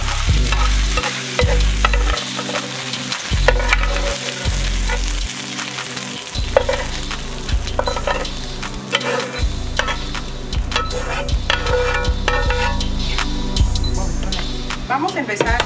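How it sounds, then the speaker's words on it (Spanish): Scrambled eggs fry in a pan for fried rice chaufa from the jungle region, a steady loud sizzle broken by repeated scraping stirs of a utensil, with a person talking over the cooking throughout. "Vamos a empezar a freír nuestros huevos. Son huevos revueltos"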